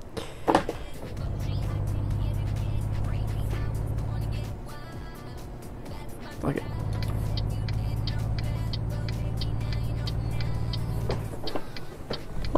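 A car engine drones steadily in Euro Truck Simulator 2, broken by two sharp whooshes as vehicles rush past, the second about halfway through, with brief dips and clatter between.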